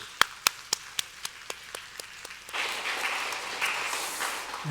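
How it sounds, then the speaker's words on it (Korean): Scattered individual claps ring out in a church service, a few sharp hits at first that swell after a couple of seconds into a fuller, steady round of congregational clapping. "우리 한번 하나님께 감사의 박수 한번 드리도록 하겠습니다."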